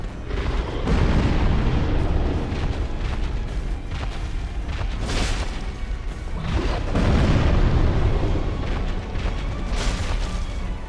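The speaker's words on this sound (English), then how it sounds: "that explosion that he does, as you've seen, it has a huge, huge, huge radius on it" Booming fiery explosion attacks from the Demon Firesage boss in the Dark Souls video game: repeated loud blasts and rumbling bursts over a dense, continuous battle din.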